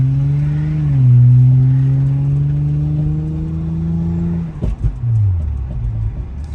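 A car with a newly installed transmission and loose junk in the trunk, heard as a steady close engine drone with a slow rise in pitch. A brief clunk follows, then the engine note drops.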